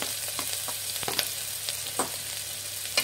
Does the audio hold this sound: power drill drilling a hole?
no